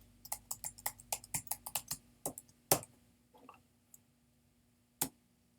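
A password typed on a computer keyboard: a quick, steady run of close key clicks that thins to a few scattered taps, with one louder click near the end, in a quiet room with no talking.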